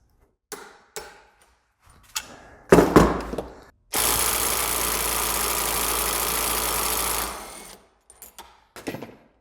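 A Harbor Freight Bauer impact driver hammering hard at a 150 ft-lb setting: brief rattling bursts, then a loud, continuous mechanical hammering that runs for about four seconds before stopping, followed by a few short trailing bursts, with no talk.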